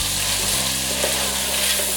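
Garden eggs fry in hot oil with onions, ginger and garlic for a Cameroonian stew, a steady dense sizzle with faint stirring, close and even throughout with no talking.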